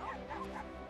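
Dogs confronting a porcupine in the wild give a quick run of short, yipping barks mixed with whimpers, at moderate distance and fairly faint.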